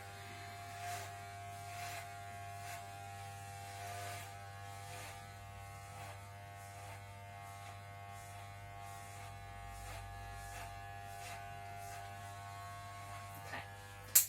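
Electric hair clippers shaving a man's hair around the hairline hum steadily and quietly at close range, with faint shifts as they move against the head and a brief knock at the end.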